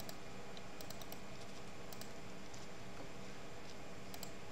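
Faint, quick keyboard keystrokes tap in short irregular bursts over a steady background hiss while an amount to send is typed.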